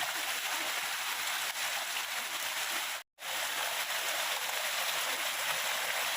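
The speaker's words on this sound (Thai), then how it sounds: "วันนี้กับบรรยากาศฝนตกหนักทั้งวันทั้งคืนครับ" Heavy rain pours steadily around a monk's hut at an abandoned temple, a dense, even hiss with no letup apart from one brief cut to silence midway.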